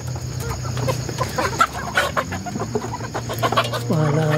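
Rooster and hens in a farm poultry pen, with busy overlapping clucking and calls throughout and a crow rising near the end, close and lively.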